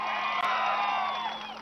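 Crowd cheering and whooping at a road show political rally in Choutuppal, a sustained loud roar of voices with a whistle-like tone riding over it.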